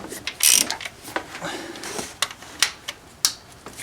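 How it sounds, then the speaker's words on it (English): A hand ratchet loosening 15mm bolts holding the AC compressor and alternator on the aluminum frame of a Dodge Ram engine, close clicking pawl strokes in short uneven bursts, with a voice talking faintly. "we have to loosen up and take out 1, 2, 3, 4, 5 bolts. They're all 15mm"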